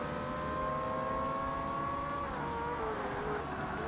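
A race car in Forza Motorsport revs hard toward 9,000 rpm, a loud sustained engine whine with rising harmonics that holds steady, then shifts pitch near the end, with no talk over it.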